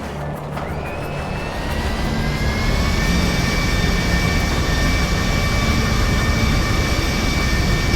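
Jet aircraft engine in GTA 5 Online coming in to land, a loud steady roar with a rising whine that builds and holds throughout, no talk.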